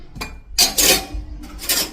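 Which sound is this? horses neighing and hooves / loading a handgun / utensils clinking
utensils clinking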